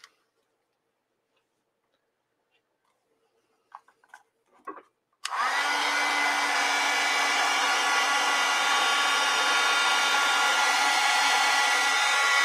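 A hair dryer is switched on after a few faint clicks and taps, then roars steadily and loudly while drying a watercolor painting.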